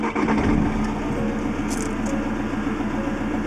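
A Ford Transit van's engine cranks and catches near at hand, then settles into a steady idle with a low rumble.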